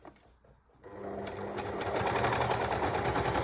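An overlock serger runs steadily as it stitches the side seams of a jersey tank top, a quiet start building at about one second into a loud, continuous mechanical whir with rapid stitching rhythm, close and alone.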